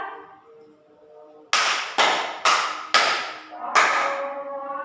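Five sharp hand claps, each slapping an imaginary mosquito in a classroom counting game, ring out loud and close at uneven intervals after a quiet start, with faint room noise and a murmur between.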